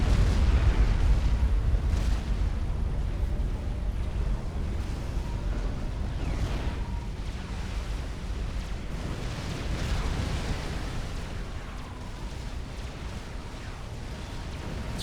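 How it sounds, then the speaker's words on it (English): Artillery shells exploding in a Supreme Commander Forged Alliance battle, a steady low rumble of distant booms and blasts blending into continuous loud noise throughout. "there's like shells hitting down here"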